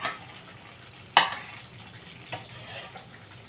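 Chicken cooking in oil in a home kitchen pot, with a soft steady sizzle and a few sharp clacks of a utensil stirring against the pan.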